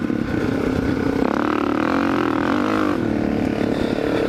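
A Suzuki DRZ 400 dirt bike fitted with a 440 big bore kit idles and revs out in the desert, a close, loud, buzzing engine that swells briefly in the middle and then settles.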